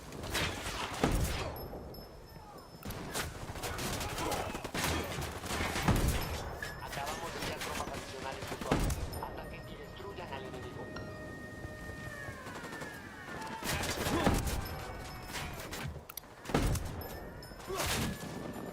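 Bursts of gunfire in the tactical shooter Ghost Recon Breakpoint, with sniper shots and heavy volleys against cartel reinforcements. Loud, irregular shots and booms repeat throughout, under an excited voice talking over the fighting.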